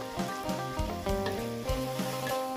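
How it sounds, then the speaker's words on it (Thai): Morning glory stir-fried with canned fish over high heat in a pan, a loud continuous sizzle with rhythmic spatula strokes scraping and tossing every half second or so, under a layer of background music. "ไฟแรงเลยครับผัดไปเรื่อยๆ จนผักเขาสุกไปแล้วครับ"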